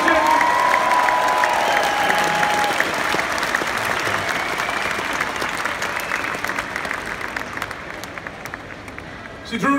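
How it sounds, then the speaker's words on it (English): A large crowd applauds steadily and loudly, with cheers and a voice rising over the clapping early on. "Round of applause for Zitruna Savishkas, ladies and gentlemen."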